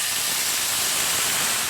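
Cooked jackfruit seeds added to hot oil with dried red chillies for a masala curry, giving a loud, steady sizzling hiss that runs unbroken throughout.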